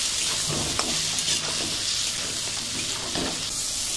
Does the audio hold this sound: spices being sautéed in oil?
yes